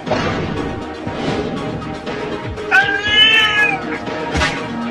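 Cartoon cat yowling in a drawn-out, wavering meow near the middle, amid busy scuffling and thumping from an attack, with crashes and background bustle throughout.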